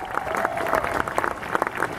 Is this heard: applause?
yes